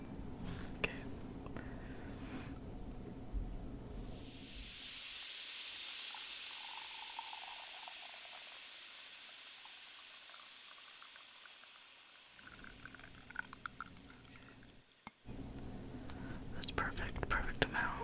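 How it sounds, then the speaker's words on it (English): Coffee poured into a favorite cup in a quiet ASMR setting, a soft, steady hissing stream that gradually thins and stops, framed by faint close rustles and handling noises. "Let's pour the coffee."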